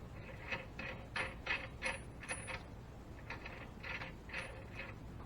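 A ratchet clicks in several short rhythmic bursts while tightening a castle nut onto a new hub assembly on an EZGO RXV golf cart, close but fairly quiet over a steady background hum.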